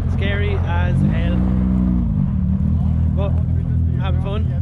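A car engine roars steadily in fourth gear while ice drifting in Sweden, loud and continuous throughout, with someone speaking excitedly over it.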